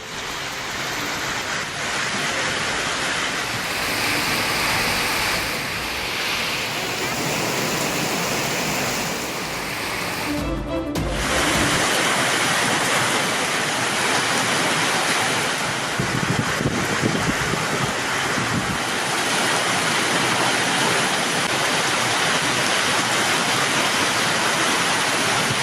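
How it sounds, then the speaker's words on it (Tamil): Rainwater floods roads in Virudhunagar after heavy rain, a steady broadband rushing wash that continues throughout with a brief break near the middle. "விருதுநகரில் பெய்த மழையால் சாலைகளில் பெருக்கெடுத்த தண்ணீர்."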